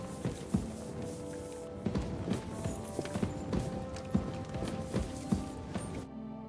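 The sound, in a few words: horse hooves clip-clopping in video game Kingdom Come Deliverance 2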